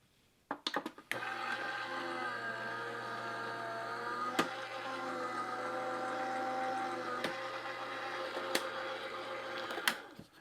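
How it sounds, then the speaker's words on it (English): A die cutting machine runs foiled card stock. A few sharp clicks lead into a steady, close mechanical whir with a tonal hum that continues with occasional knocks, then stops. "So I'll go ahead and run these through the die cutting machine now."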